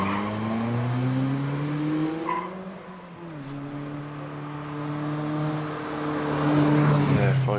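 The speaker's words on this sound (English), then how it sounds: "the 1600cc machine of Charlie Wilson coming into the S's now" A 1600cc Caterham race car at the Prescott hillclimb, its engine note rising and falling through gear changes as it climbs, steady and fairly close, with a brief dip in revs midway before it pulls hard again.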